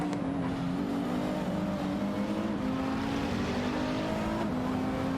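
Race cars in a video game race, including an SCG 003C and a BMW M6 GT3, with a continuous droning engine tone that rises and falls steadily throughout.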